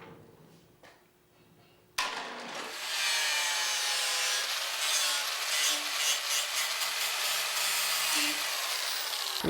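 A power tool, likely a saw, abruptly starts and trims wood from the base of a tree stump table, producing a loud, sustained rough grinding rasp with slight variations as it cuts.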